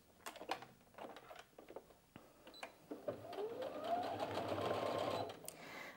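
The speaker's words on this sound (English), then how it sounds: "So let's make a start sewing a minute." A Brother Innov-is F420 sewing machine stitches a hem, its steady rapid needle clatter running close and continuous through the latter half after a few preparatory clicks and taps.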